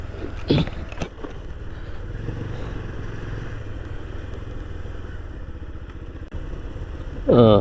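A motorcycle engine runs at a steady idle close by at a river boat crossing near Hampi, a low continuous rumble with a few knocks early on and a louder surge at the end.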